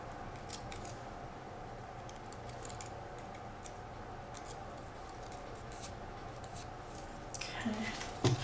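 Scissors snipping paper while trimming a small piece for a 4th of July garland, a run of light, quiet cuts close by over a faint steady background hiss, with a slightly louder handling noise near the end.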